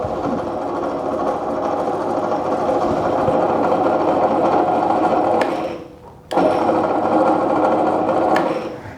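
Yasuka YDP-016A bench drill running with a steady, loud motor hum and whine that briefly drops out for a moment before spinning back up to full speed; no one speaks.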